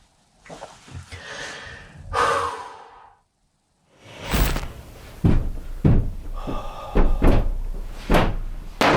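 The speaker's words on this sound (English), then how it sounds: "I just heard something like knocking or touching the outside of this." Several dull knocks and bumps strike the outside of a cooler during an overnight ghost hunt, coming close and fairly loud in an irregular run after softer breathy rustles and a silent gap.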